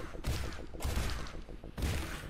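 Gunfire in the video game This Strange Realm of Mine: a few loud, booming shots spaced out over a couple of seconds, each followed by a rumbling tail, with no speech over them.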